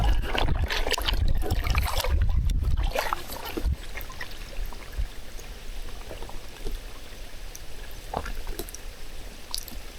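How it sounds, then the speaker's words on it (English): Faint water trickling somewhere beneath glacier rubble inside an icy cave, a soft continuous dribble under low rumbling wind, with louder gusty noise early on. "I can hear water coming in, but it's underneath all that rubble there."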